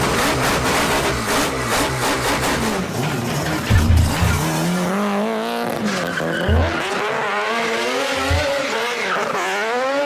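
A four-rotor rotary engine in a Supra race car revs hard and loud, its pitch climbing and dropping in repeated sweeps, with some tire squeal mixed in.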